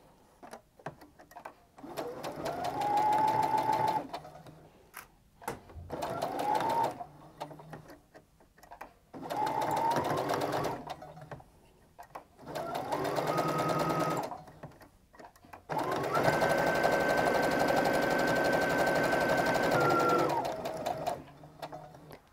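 A home sewing machine stitches an upcycled sweater mitten in five bursts of whirring motor and rapid needle clatter, separated by short pauses, the last run longest.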